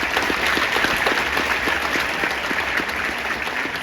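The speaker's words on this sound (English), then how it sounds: "Give him a round of applause." Steady burst of applause from an audience at a Veterans Day program, many hands clapping at once, sustained and fairly loud for a few seconds.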